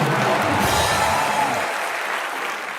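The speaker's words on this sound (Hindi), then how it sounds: "जोरदार ताली ठोको यार" Loud audience applause on a talk show, a dense wash of clapping that starts full and slowly tapers off toward the end.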